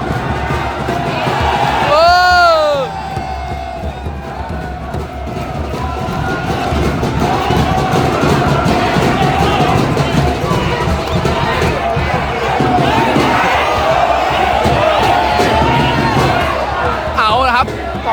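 Suan Kularb school football supporters cheer in the stands at a Bangkok school final against Bangkok Christian College, a loud sustained crowd roar with a whistle early on, under an announcer's talk.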